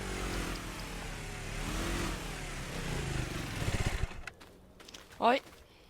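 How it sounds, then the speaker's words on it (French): A motorcycle engine drones and revs through the first four seconds, then cuts off, leaving quieter background noise and a brief spoken voice near the end. "Ralentis quand même avec ta moto."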